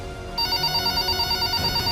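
A landline telephone rings steadily in a household, a loud close electronic trill with tonal bell-like pulses that continues without pause, no voices over it.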